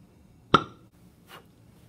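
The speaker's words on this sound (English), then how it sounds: "set the hydrogen on fire." Hydrogen gas from zinc reacting with hydrochloric acid ignites in a test tube with one sharp, close pop, followed by a faint soft whoosh.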